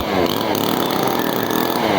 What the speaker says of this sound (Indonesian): Baru kalau yang diperlukan untuk chainsaw mesin atau chainsaw yang baterai, ini sesuai penggunaannya.